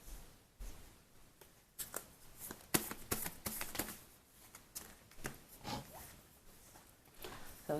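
Tarot cards being shuffled by hand, a run of quiet riffling and slapping bursts in an irregular rhythm, close and soft, with no talking.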